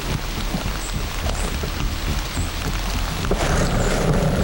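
Steady rain patters on surfaces nearby in the outdoors, a constant wash of hiss with scattered drops, growing slightly heavier toward the end.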